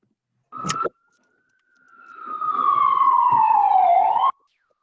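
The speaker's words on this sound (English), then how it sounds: "I can hear the sirens on their Zoom through Zoom and out my door" A short tone blip, then a New York emergency siren heard over a Zoom call, wailing as it rises and slowly sweeps down, fairly loud and steady for a couple of seconds before cutting off.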